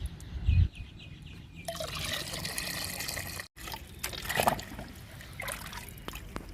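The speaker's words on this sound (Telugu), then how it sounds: "ఇప్పుడు ఈ లిక్విడ్ని చామంతులకి మందారాలకి ఇచ్చేద్దాము" Homemade liquid fertilizer trickles and splashes as it is poured onto potted chrysanthemum and hibiscus plants in a home garden, in uneven pours with a short break midway and a louder burst of splashing near the end.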